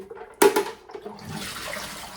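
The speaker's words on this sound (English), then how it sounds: "when the water comes out from this filter, it goes through and remineralizes here and then fills up in the bottom" Water runs through a Bluevua RO100ROPOT-LITE countertop reverse osmosis filter, opening with a sudden gush and then settling into a soft, steady trickle and hiss, close by.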